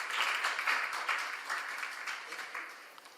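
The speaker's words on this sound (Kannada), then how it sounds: "ಒಂದು ದೊಡ್ಡ ಚಪ್ಪಾಳೆ ಬನ್ನಿ" An audience at a Carnatic music concert celebrating a birth anniversary gives a round of applause, a soft, scattered patter of clapping hands that gradually thins and fades over a few seconds.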